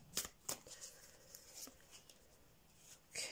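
Oracle cards being shuffled during a tarot reading, giving crisp papery riffles and flicks in several quick bursts with quieter rustling between them, close to the listener and with no talk.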